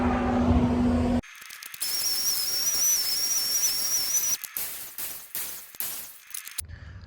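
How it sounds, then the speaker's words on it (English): The fan of a farm grain drier roars close by as a loud, steady rushing hiss carrying a thin high whistle, with abrupt cuts and shifts in level throughout. "I don't know if you can hear me over the fan."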